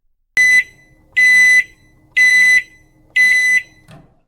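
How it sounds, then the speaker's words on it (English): A timer alarm goes off in four loud, evenly spaced electronic beeping bursts, each about a quarter to half a second long with short silences between, close and alone with no talk. "Then the timer went off."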